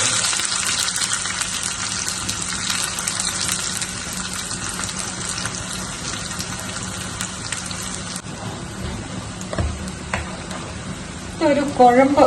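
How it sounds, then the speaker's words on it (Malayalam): Loud, continuous sizzle of onions, curry leaves and mustard seeds frying in hot oil, with occasional scraping and a brief voice near the end. "ഉള്ളിയും കരിയാപ്പിലയും കടുകും വറുത്ത് ഇതിന്റെ മുകളിലേക്ക് ഒഴിക്കാമേ"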